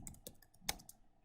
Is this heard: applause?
no